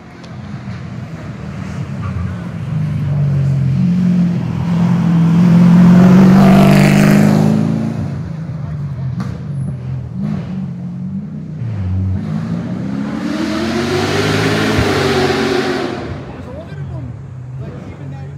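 A white 2012 BMW race car accelerates past at Turn 2 of the Duryea Hillclimb. Its engine swells to a loud, close pass, fades, then rises again further up the course. Wind buffets the microphone and a voice talks over the noise.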